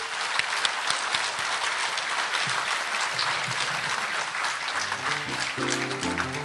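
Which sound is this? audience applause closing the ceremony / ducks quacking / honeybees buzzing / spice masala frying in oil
audience applause closing the ceremony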